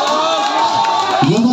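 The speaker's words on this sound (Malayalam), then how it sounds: "കയ്യടിച്ച് സ്വീകരിക്കൂ." A crowd at a team sports final cheers and calls out in a steady loud roar, with a voice rising over the noise toward the end.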